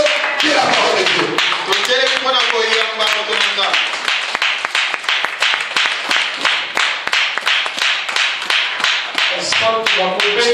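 A church congregation claps in a fast, steady rhythm during a worship service, loud and close, with voices calling out and singing over the clapping throughout.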